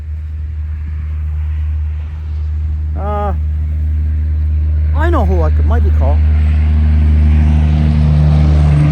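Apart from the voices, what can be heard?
big white truck driving past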